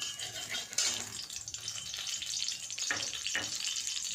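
Oil sizzles in a hot wok being heated for Bengali biulir dal, a steady close frying crackle with a couple of brief louder spits, no voices.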